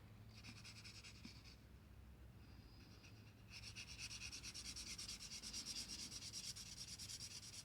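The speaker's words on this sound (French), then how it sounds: "je vais venir repasser avec mon crayon." A pencil going back over drawn lines on patterned, stamped paper for a Valentine's card, a steady close scratchy rubbing that runs continuously and grows slightly louder partway through, faint overall.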